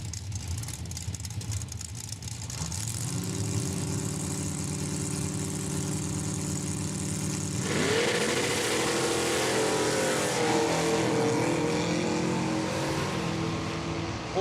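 A 1982 Chevy Camaro and a 1969 AMC AMX idle side by side at a drag strip, then both V8 engines roar loud and steady as they launch, a thick continuous mechanical rumble with no talk.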